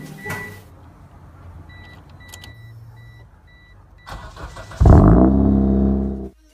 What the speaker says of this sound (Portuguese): o barulho de um Eclipse GST sendo ligado